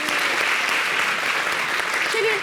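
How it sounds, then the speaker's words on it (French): A studio audience on a TV talk show claps for the women servers, a thick continuous round of applause heard up close, with a brief voice surfacing near the end. "il faut les applaudir aussi, les femmes servantes."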